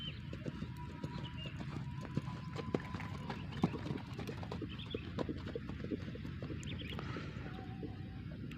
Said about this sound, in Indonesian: Jadi banyak sekali kuda-kuda yang sedang berlatih saat ini di gelanggang pacuan kuda ini.